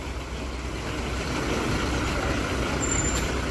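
A bus idles at the Velankanni bus stand with a low, steady engine rumble, then gives a short, sharp hiss of air brake release toward the end. Surrounding station noise is faint.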